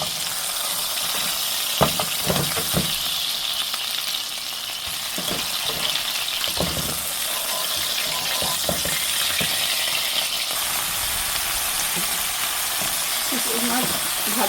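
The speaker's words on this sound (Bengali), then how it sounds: "মাছটা ফুটে নিচ্ছে" Baim fish fries in hot oil with a steady loud sizzle throughout, and occasional clatters and scrapes from a utensil stirring in the pan; a voice is faintly heard now and then.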